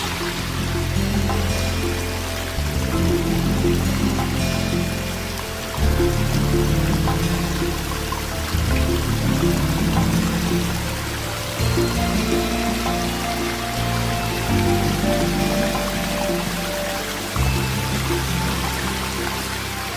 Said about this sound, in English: we have a great combination of ponds, creeks and waterfalls all joined together. They're flowing all the way back down to one pond.